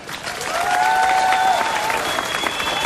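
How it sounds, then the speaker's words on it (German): A large crowd claps steadily and loudly, sustained applause filling the space with a few voices faintly mixed in. "Ich denke, das ist ein Applaus wert."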